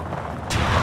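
A deep boom bursts in suddenly partway through, an explosion in the video game Just Cause 3, loud and close after a brief rumbling lead-in.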